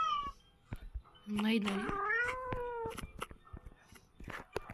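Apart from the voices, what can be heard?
cat meowing in video game Ice Scream Chapter 2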